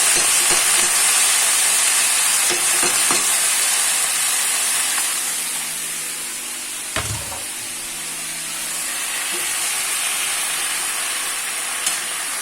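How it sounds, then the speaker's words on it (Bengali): Potatoes fry in a pan with a steady, bright hiss and sizzle lasting throughout, broken by one sharp clack midway and a faint tap near the end. "এদিকে আলুগুলো ভেজে নিচ্ছি"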